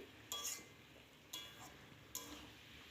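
A spoon stirs spices into fish-head cabbage curry frying in a pan, making three soft scraping clinks spaced about a second apart over a faint, steady sizzle.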